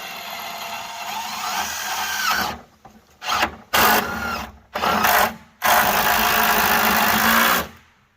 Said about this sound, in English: I'm gonna drill the top, screw the top down.